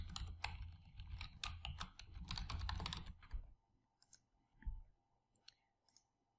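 A computer keyboard clicks out a rapid run of keystrokes as a folder name is typed in SAP, dense and close for about three seconds, then a few scattered taps and faint clicks in a quiet room.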